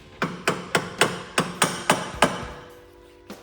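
A screwdriver is hammered into the oil filter of a 1995 Porsche 993 during an oil change, with eight sharp metallic hammer strikes at a steady rhythm, close and loud, then a faint final tap.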